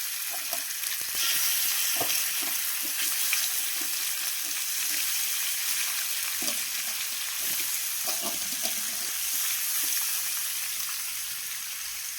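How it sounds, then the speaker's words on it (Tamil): Fish fries in well-heated oil, giving a loud, continuous sizzle with scattered small pops and crackles up close, and no voices. "எண்ணெய் ஊற்றியாச்சு எண்ணெய் நல்லா சூடாயிடுச்சு"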